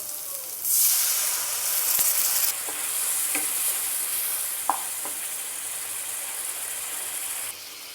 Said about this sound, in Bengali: মশলা কষানো হয়ে গেছে, এবার গ্রেভির জন্য জল দেব।